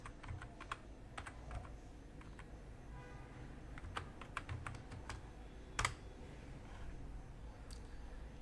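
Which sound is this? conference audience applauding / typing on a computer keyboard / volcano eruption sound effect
typing on a computer keyboard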